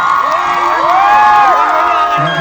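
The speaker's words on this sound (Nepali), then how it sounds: "यति राम्रो आर्टिस्टको लागि एकचोटि जोरदार ताली" Crowd at the Pokhara festival cheering and shouting for a young artist, a dense, loud mass of voices with whoops and rising calls, a few claps buried in the roar.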